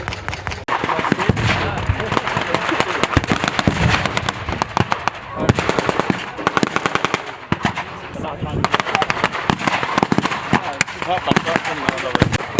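Dense, rapid bursts of small arms and machine-gun fire crackle almost continuously at a WW2 battle re-enactment with tanks and military vehicles, loud and close, with a voice talking underneath.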